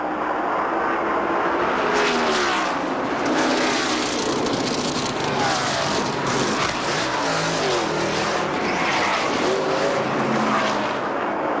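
A NASCAR stock car from the 1992 Hooters 500 at Atlanta rolls slowly down pit road at about 55 mph, its engine a steady droning rumble mixed with a constant loud roar of track and crowd noise.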